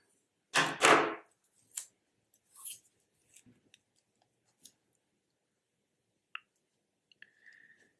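Scissors trimming the end of a strip of washi tape, a couple of close crisp snips followed by faint scattered clicks and light paper rustles in a quiet room.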